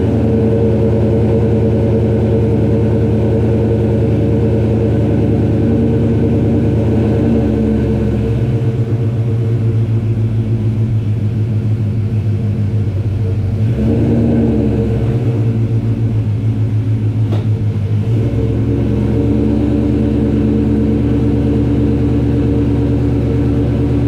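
A 1991 Ford Mustang Foxbody with a swapped-in Coyote engine runs close by. It holds a deep, continuous rumble with a few swells and dips in revs for the whole stretch, and nobody speaks.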